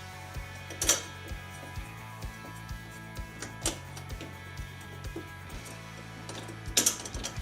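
Ratcheting clicks and clunks as the height-adjustable top rack of a Servis dishwasher is pushed down into its shaft holes, with a few sharper metallic snaps among quieter regular clicks, close and moderately loud.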